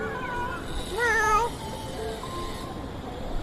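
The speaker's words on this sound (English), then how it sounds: "cute little kitty cat hanging out on his little shelf up there" A cat on a shelf meows: one clear, drawn-out meow at close range, heard over a low, steady background hum, with no talk.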